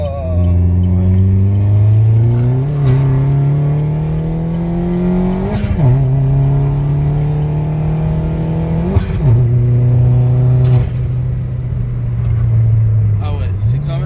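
A modified Opel Corsa track car accelerates hard, its engine climbing in pitch through several gears with clear dips at each shift, loud and close, while someone talks over it.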